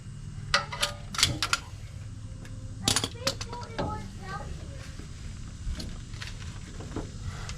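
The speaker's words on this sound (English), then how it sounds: "Just push the brake pad back in, or brake caliper piston back in." A Lisle tool presses a brake caliper piston back on a Ford F-150, producing scattered sharp metallic clicks and rattles in irregular bursts, close to the microphone, over a low background hum.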